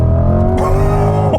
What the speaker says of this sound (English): we're going for a drive. '20 Chevy C8 Corvette.